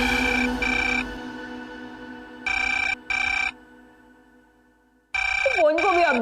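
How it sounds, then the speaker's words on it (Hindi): A phone rings with short bursts of electronic ringtone separated by brief pauses, loud and close, with a voice at the end. "फोन को भी अब भी बजना था।"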